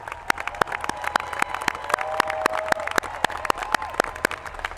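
Audience members clap at the SM West 2016 high school commencement ceremony in a large hall, sharp, distinct claps in a loose rhythm rising over a soft background murmur.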